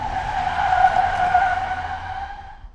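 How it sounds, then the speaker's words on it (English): Car tires screech in a long, loud squeal as the vehicle skids to a halt outside a hospital, the tone holding steady then fading at the end with no talking. "the sound of the car screeching to a halt outside the hospital"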